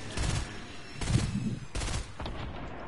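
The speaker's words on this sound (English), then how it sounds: "Oh, I'm getting sniped from behind." Sniper gunfire in a shooter video game, with several sharp, close shots spread across a few seconds in an irregular rhythm.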